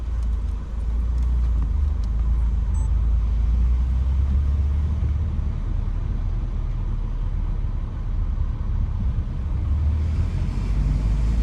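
Traffic rolling through downtown Camden, Arkansas, a steady low engine rumble and road hum heard from inside a car, with no distinct passes standing out.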